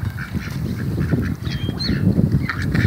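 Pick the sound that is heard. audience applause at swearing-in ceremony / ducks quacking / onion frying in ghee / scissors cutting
ducks quacking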